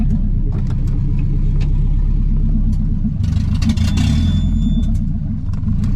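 Nissan 300ZX with a swapped KA24DE engine, a steady loud close rumble of the running motor with a brief burst of higher-pitched noise midway, no talking.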